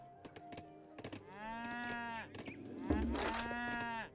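In Age of Empires 3, a cow moos with a long, drawn-out bellow and then a second moo, both loud and clear over soft game clicks, with no talk.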